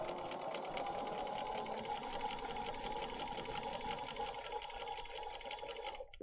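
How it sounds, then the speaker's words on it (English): A sewing machine set to a small stitch length runs steadily, stitching two quilt pieces together along a marked line, a continuous even whir that holds for about six seconds and then stops abruptly. "And I'm sewing right on the line"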